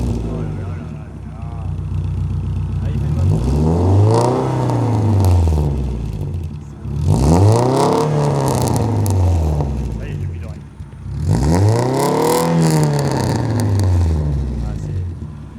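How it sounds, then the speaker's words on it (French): A Renault Clio 2 RS with a full stainless steel exhaust line is revved hard three times, each sweep rising and falling in pitch with a loud, close, raspy roar and brief idle between blips. "j'aimerais vraiment que tu nous fasses écouter le bruit de la voiture"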